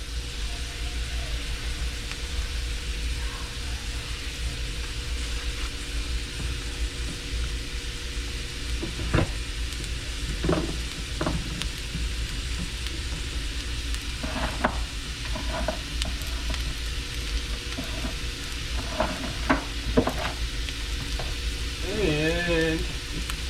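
Shrimp stir fry sizzles steadily in a hot pan, with a continuous frying hiss broken by intermittent scraping and clinks of stirring utensils, recorded close.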